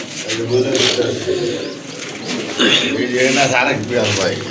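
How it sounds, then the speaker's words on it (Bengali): Domestic pigeons at a seller's coop cooing in soft repeated throaty calls, close by, with people talking over them throughout. "টোটাল 5 পেয়ার কবুতর"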